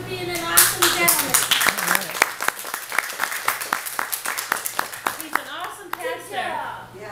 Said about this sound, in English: Let's all give a round of applause to Pastor Ed for being an awesome gentleman.